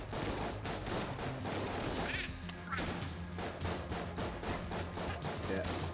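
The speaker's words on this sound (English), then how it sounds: "You're shooting off quite a lot of shots." Rapid gunfire in the modded video game Enter the Gungeon, a dense, fast stream of sharp shots and impacts that runs without a break and blends with game effects.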